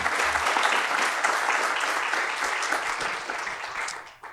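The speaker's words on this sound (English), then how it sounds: "One last round of applause." Audience at a startup pitch festival giving a sustained round of applause after a pitch, a dense, steady clapping crowd that holds for about four seconds before thinning out at the end.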